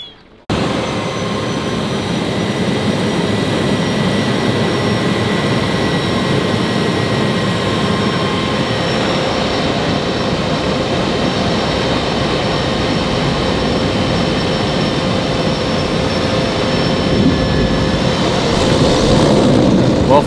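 Steady, loud drone of a seaplane engine in flight, a constant propeller roar with little variation throughout.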